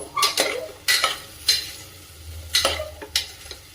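Carrots sautéing in a spoonful of ghee for gajar halwa, stirred with a spoon, giving a run of sharp scraping clatters against the pan over a faint low sizzle.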